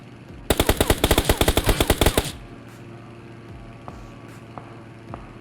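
A rapid burst of automatic gunfire in the mobile battle-royale game PUBG Mobile rattles out about fifteen sharp, loud shots in quick rhythm, followed by quieter ambient game noise and a few faint distant clicks.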